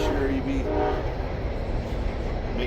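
A train passing over a driveway rumbles loudly and steadily close by, its horn sounding in sustained tones over the continuous roar of the cars.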